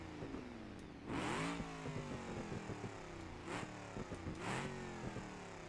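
A drag car engine in a racing video game revs in a few sharp bursts over a steady idle drone, each rise loud and brief, with no talk.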